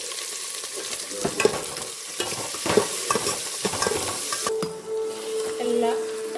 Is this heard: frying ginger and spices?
yes